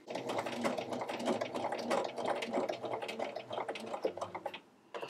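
Sewing machine stitching microsuede fabric at slow speed, a near, continuous rapid chatter of needle strokes that eases and stops briefly near the end.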